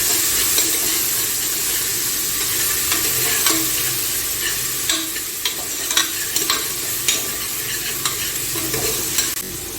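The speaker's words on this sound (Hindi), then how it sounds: "इसको थोड़ा सा फ्राई करूँगी।" Ginger and garlic, about two tablespoons, frying and being stirred in a pressure cooker, giving a steady close sizzle with scattered crackles and spatula scrapes throughout, no talk.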